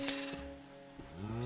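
Sheep penned on a Minecraft Feed the Beast farm bleat in short wavering calls, two or three bleats close together, then a rising one at the end.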